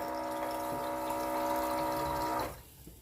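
Water pours steadily into a stone mortar for about two and a half seconds, a dense splashing stream, then cuts off leaving a few faint drips in a quiet kitchen while making pork som tam-style sour soup.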